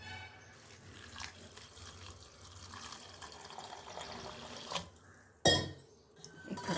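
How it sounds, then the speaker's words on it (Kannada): Flattened rice (poha) being rinsed by hand in a cup of water: quiet splashing and trickling close by, a faint clink of the vessel, then a sharper burst of pouring water near the end. "ಇದನ್ನು ಒಂದೆರಡು ಮೂರು ಸತಿ ನೀರು ಹಾಕಿ ತೊಳ್ಕೊತೀನಿ ನೋಡ್ರಿ"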